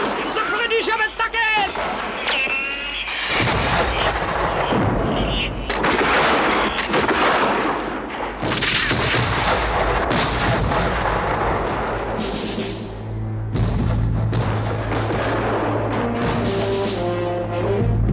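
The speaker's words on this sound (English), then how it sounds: "Fire the cannons! The British have attacked!" Cartoon cannons fire in a rapid series of loud, booming blasts, with rumbling explosions scattered across a noisy battle scene, mixed with shouting voices and music.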